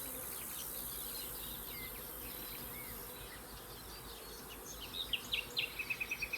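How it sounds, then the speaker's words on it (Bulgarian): Honey bees from captured swarms buzz around hives set beside other colonies, forming a low continuous drone throughout, with quick bird chirps rising near the end. "Има много млади пчелички."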